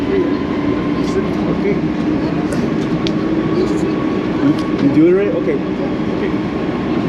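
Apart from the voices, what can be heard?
crowded tram ride in Brno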